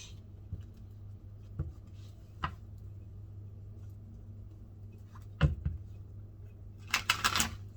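A tarot deck is shuffled during a quiet reading: soft, sparse card taps and riffles over a low steady hum, ending in a brief louder flurry of shuffling near the close. No one speaks.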